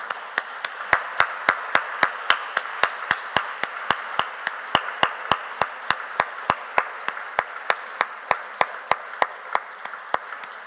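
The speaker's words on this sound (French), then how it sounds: "encore applaudir l'ARSEM qui a permis comme ça à 11" Steady, evenly spaced hand claps ring out from a conference audience, a regular rhythmic applause of sharp individual claps continuing throughout, fairly close and alone with no talking.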